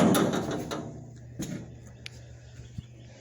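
The door of a 1964 Impala convertible being handled produces a close, heavy metallic clunk followed by a few lighter knocks and rattles over a low hum.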